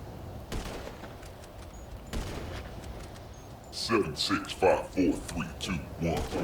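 Gunfire in GTA 5 Online: a few sharp broadband shots early on, then quieter pops beneath excited talking and laughter from players.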